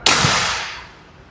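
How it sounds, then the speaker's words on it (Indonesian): An air rifle fires a single loud, sharp crack close by, followed by a brief decaying tail. "Oke, ini tembakan yang pertama."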